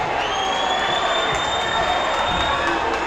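A loud indoor crowd at a high school varsity boys basketball game cheers continuously, a dense roar of shouting and applause that fills the gym, with a whistle-like tone riding over it.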